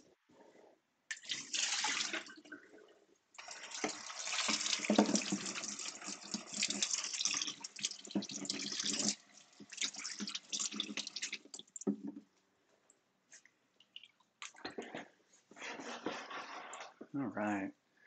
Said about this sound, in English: I'm gonna give it just a little bit of a rinse.